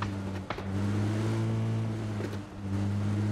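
A car drives toward the player in PUBG, its engine a steady, loud, droning hum that holds for a few seconds, dips briefly, then resumes, with no voices over it.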